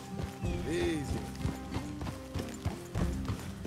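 Horse hooves clop in a video game, a steady irregular patter of several hoofbeats with a brief whinny-like tone, set against a busy mechanical game soundscape.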